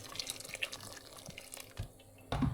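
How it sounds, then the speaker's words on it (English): Water is poured into a soup pot in a home kitchen: a soft irregular trickle and drip, close and fairly quiet, ending in a brief heavier splash. "Okay, so I'm gonna add a little bit more water."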